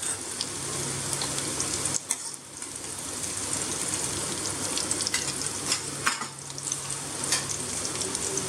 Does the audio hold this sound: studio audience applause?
no